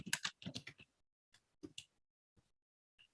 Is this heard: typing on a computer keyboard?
yes